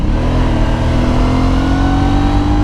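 Aprilia Shiver 900 motorcycle engine revving loudly and steadily through a gear shift, a close, continuous mid-pitched drone with rising tone and no talk over it.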